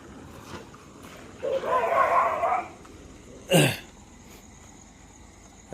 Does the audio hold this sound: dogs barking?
yes